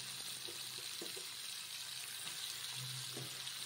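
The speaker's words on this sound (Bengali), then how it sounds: "উচ্ছে আর আলু খুব সুন্দর করে গ্যাসেরটা লো ফ্লেমে ধীরে ধীরে অনেকক্ষণ ধরে ভালো করে ভাজতে হবে" Bitter gourd and potato frying slowly in oil in a pan over a low gas flame: a steady, even sizzle with a few soft knocks, close by and without voices.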